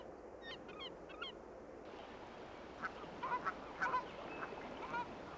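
Canada geese honk in Acadia's wild setting, a scattered series of nasal calls, a few clustered early then more overlapping honks later, moderately distant over a soft outdoor background.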